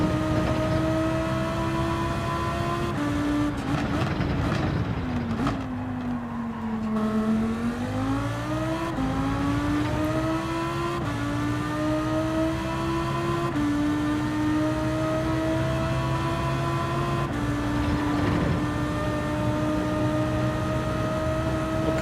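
A Ferrari race car engine in Gran Turismo 7, racing at the Nürburgring or Sardegna, holds a steady high drone throughout. The pitch dips and climbs as it shifts gears, loud and constant with no voices.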